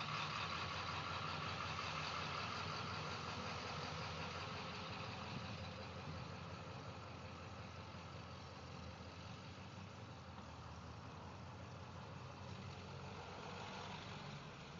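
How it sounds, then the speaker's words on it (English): A big truck rumbles along a snowy road, a steady broad engine and road roar that fills the whole stretch and fades only slightly, loud and continuous with no voices. "Oh geez, another big truck."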